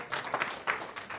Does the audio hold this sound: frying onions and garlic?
no